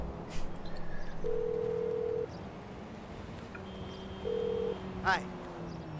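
An in-game phone on GTA V for PC dials out to order a taxi. Two short, steady electronic tones sound a few seconds apart, fairly faint, over low game background noise.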